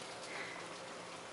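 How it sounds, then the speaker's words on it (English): Heavy rain pours outside as a steady, faint hiss and patter with no gaps; no one talks. "Because it's pouring rain outside."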